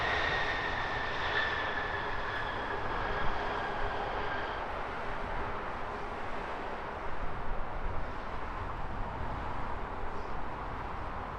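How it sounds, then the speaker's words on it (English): A British Airways shuttle airliner from Edinburgh landing at Heathrow, with a steady broad jet roar and a faint high engine whine that fades after a few seconds, heard from a distance without speech. "Next arrival, another British Airways shuttle service in from Edinburgh"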